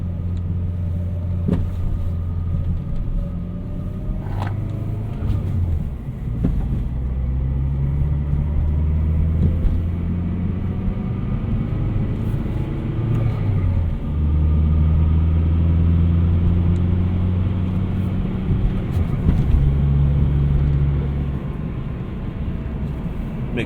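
A turbocharged 2008 Chevrolet Cobalt SS rumbles along while driving, its exhaust droning low and steady as the pitch rises and falls through gear changes, heard from inside the car.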